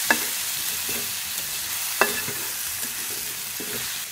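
Vegetables are stirred in a pan while tempering for a Sri Lankan sambar, with a soft sizzle underneath and a few sharp scrapes and clinks of the spoon against the pan, spaced about a second apart.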